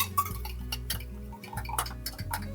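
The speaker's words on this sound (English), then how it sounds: "We will start by beating our egg yolks just a little bit with a whisk." A whisk beats egg yolks in a bowl with quick, rhythmic metallic clicks and taps against the sides, close and clear, with no voices.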